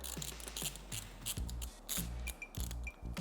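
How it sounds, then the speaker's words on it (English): A wrench ratchets in a series of quick, close clicking strokes while loosening the lower water pump screw on a Yamaha Ténéré 700, a pause between bursts and a short metallic squeak near the end. "So I'm gonna go ahead and break free my lower screw here."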